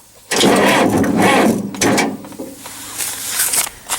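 Starter on a 1968 John Deere 2510 tractor with a dead battery, cranking loudly and close in a long strained burst, then another, trailing off into lower mechanical noise.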